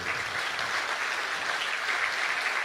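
Steady, dense applause from a crowd at a Hindi poetry gathering (kavi sammelan), sustained at an even level throughout with no pauses or voices rising above it.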